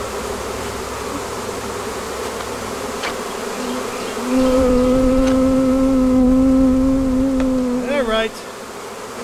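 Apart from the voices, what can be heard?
honey bee swarm buzzing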